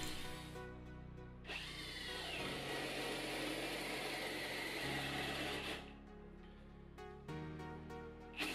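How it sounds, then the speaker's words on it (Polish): Bosch GSR 12V-35 FC brushless cordless drill boring into wood with an 8 mm twist bit: a steady whining motor run of about four seconds under load, framed by shorter spin-ups and stops, close and clear with no talk. "Wiercenie wiertłem krętym do drewna o średnicy 8 mm odbyło się bez problemu."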